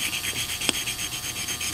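A Corvair rocker arm is rubbed back and forth across a sharpening stone, giving a steady, repeated rasping scrape with one brief sharper click partway through, close and fairly quiet, with no talking.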